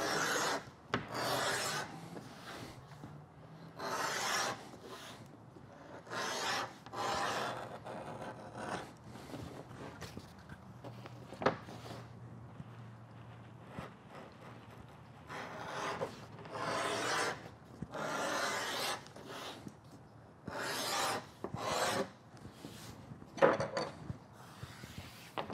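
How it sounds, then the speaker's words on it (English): Edge beveler shaving the edges of a leather belt: repeated rasping, scraping strokes in irregular bursts, close and fairly loud with brief pauses between passes. "Now we've got it beveled both sides, but it's still rough."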